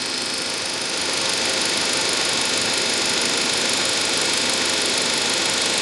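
A repaired Wuling Confero radiator fan motor with new carbon brushes runs during an RPM test, giving a steady, loud, close whirring roar with no speech.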